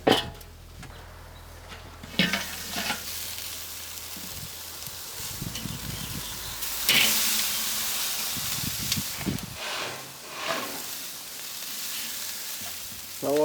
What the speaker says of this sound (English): Let's see if we can just sear this thing and make sure it looks good for final dinner